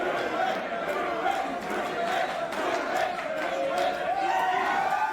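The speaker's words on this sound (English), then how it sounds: "the crowd here at SPW cheer for a ref other than Karina" Crowd at an SPW wrestling show cheering for a referee doing a cartwheel, a dense, continuous roar of shouts and cheers with chatter mixed in, loud and sustained throughout.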